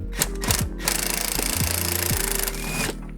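Impact wrench hammering out the rear sway bar bushing bolts on a 2008 Toyota Camry Hybrid, a loud, close rapid rattling burst running steady for a couple of seconds between short spin-up and release pulses.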